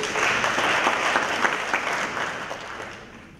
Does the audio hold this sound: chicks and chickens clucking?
no